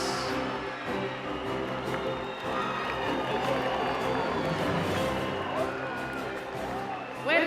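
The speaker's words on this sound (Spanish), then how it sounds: "Fuerte los aplausos para Miss Venezuela." Audience at the Miss Continentes Unidos 2022 final night pageant applauding and cheering for Miss Venezuela, a steady dense crowd roar with clapping and whoops sustained throughout, loud and continuous, with a presenter's voice over it.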